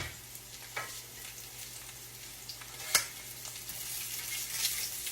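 Salmon croquettes sizzle in a frying pan, a steady close crackle of hot oil with occasional pops and a scrape or two of a utensil, no voices.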